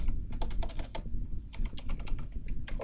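Close, brisk typing on a computer keyboard, in quick clusters of key clicks with a short pause in the middle, as code is entered for a Unity first-person controller.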